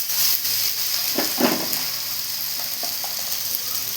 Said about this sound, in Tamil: உருளைக்கிழங்கு போடலாம் கேரட்டு போடலாம் அதையும் நல்லா வதக்கிடலாம்